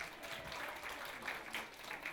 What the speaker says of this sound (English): big round of applause for all of you guys for being here today